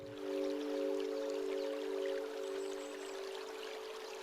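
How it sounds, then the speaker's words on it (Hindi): Water flowing gently nearby in a calm outdoor setting: a faint, steady trickling wash with a soft tonal hum underneath and no voices. "और पास में बहता हुआ पानी"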